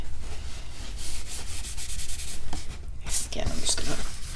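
Paper is burnished by hand for a mini album, with repeated close, scratchy rubbing strokes in quick rhythm, then a few scattered scuffs.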